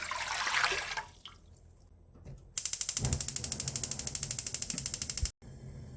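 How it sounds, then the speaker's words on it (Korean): Water pours and splashes into a wok for a moment, then a rapid, steady rattling pulse fills the space before cutting off abruptly; close, with no voices. "웍에 물을 붓고요."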